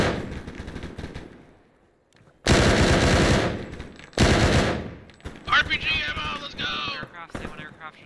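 Loud bursts of automatic gunfire in the Arma 3 military shooter, two long sustained volleys with shorter crackling shots after, while players talk over the comms.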